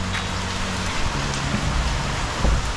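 Heavy rain falls at night in a Red Dead Redemption 2 game scene, a dense steady hiss of drops hitting surfaces with a low rumble underneath, loud and continuous with no voices.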